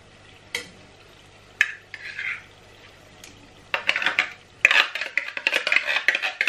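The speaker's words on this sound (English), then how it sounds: "You want to mash up the mackerel as well" Mackerel in tomato sauce mashed in a pan, giving soft, irregular scraping and stirring sounds with occasional utensil clinks against the pan, quiet at first and then busier.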